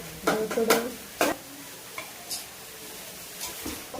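A spoon stirs cooked chicken into masala in a pan, making a few quick scraping strokes and clinks followed by sparse, softer taps over a low background.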